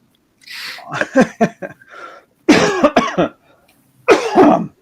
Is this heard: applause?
no